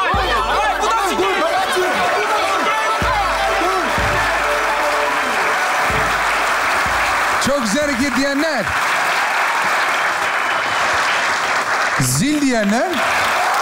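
A studio audience claps loudly and continuously on a Turkish comedy sketch show, with voices talking over the applause throughout.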